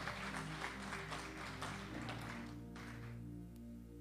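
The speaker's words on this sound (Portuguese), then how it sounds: "aplaudindo a Jesus porque Ele é bom" Church congregation applauding as people take their seats, a dense wash of clapping under sustained organ or keyboard chords that thins out toward the end, leaving the music ringing.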